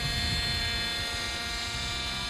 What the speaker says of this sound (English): bring the helicopter off to your right